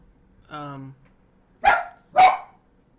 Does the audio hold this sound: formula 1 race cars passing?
no